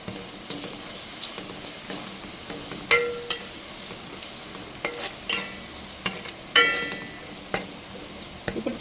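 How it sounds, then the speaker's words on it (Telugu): Ginger paste and turmeric frying in a pan, a soft steady sizzle broken by repeated spatula scrapes and taps as it is stirred, close up with no voices. "ఇలా కలుపుకుంటూ వేపుకోవాలి, లేదంటే అడుగు పట్టేద్ది."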